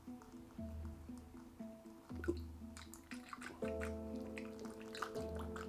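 Water leaks from a PC watercooling loop filled with deionized water, falling in irregular soft drips and splashes with a steady low hum underneath, fairly faint and close.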